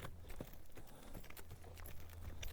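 Hooves of a horse being lunged at a slow pace on the ground, giving soft, irregular clip-clop footfalls over a low steady background hum.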